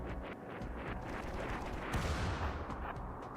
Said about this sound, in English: They're trying to mortar me.